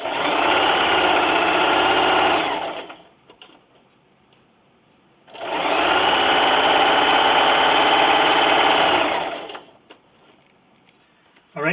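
A sewing machine stitches a plastic bag dispenser in two long, loud, steady runs of about three seconds each, separated by a quiet pause with faint handling noises.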